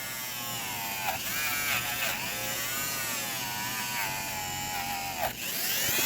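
A Dremel rotary tool polishes a blackened part from a 1940s–1950s count wheel cuckoo clock, giving a steady high-pitched whine close up, with its pitch dipping briefly under load a few times.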